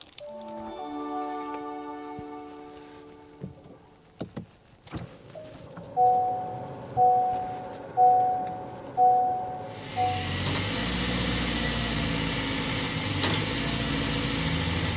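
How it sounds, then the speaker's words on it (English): A 2024 Honda Accord Sport L Hybrid is started: door and cabin clicks, four evenly spaced electronic chimes, then a sudden, steady broadband whir of the hybrid powertrain and exhaust that holds loud to the end. "Let's go inside, start it up, so you can hear that exhaust though."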